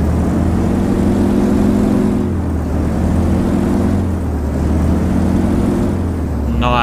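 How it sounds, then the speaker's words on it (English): A Yak-52's radial piston engine runs with a deep, throbbing drone, loud and close, its pitch swelling and easing in a slow cycle, in a flight simulator. "It's a radial engine. Love these radial sounds."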